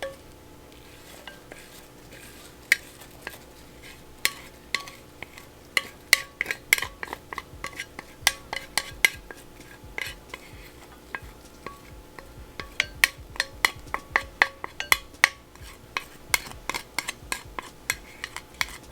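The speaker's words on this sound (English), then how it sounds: "So let's just mix all of that up." Crab dip mixture with herbs and green onions being stirred in a bowl, a steady run of spoon clinks and scrapes against the dish growing busier and louder midway, no talking.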